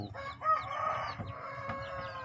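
A broody hen in a coop where eggs are hatching clucks in soft, close, repeated calls over low background rustling.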